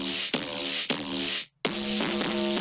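A bass beat for an emo-style electronic drop, run through an OTT compression effects rack: dense, tightly squeezed bass notes with bright upper fizz in a rhythmic pattern, a brief silent gap before the phrase resumes, alone.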